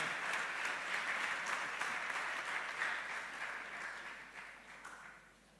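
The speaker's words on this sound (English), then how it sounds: "Shall we please welcome the person with a round of applause?" A crowd at a climate change and green economy week opening ceremony gives a round of applause, many hands clapping steadily before gradually thinning and fading toward the end.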